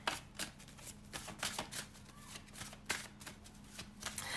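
Tarot cards being shuffled in a steady run of crisp, papery riffles and slaps, close and fairly loud, with no talking.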